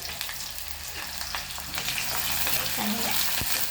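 Onion and garlic sizzle steadily in hot oil, a continuous crackling hiss with faint stirring, close and fairly loud, no voices.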